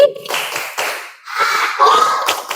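Children in an Indonesian classroom perform a tepuk konsentrasi clap routine, close rhythmic hand claps mixed with their chanting voices in a short burst.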